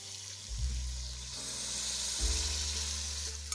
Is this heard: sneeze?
no